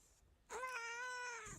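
A single cat meows once, clear and fairly close. The meow is drawn out and carries a rising tone at its start, and the background around it is quiet.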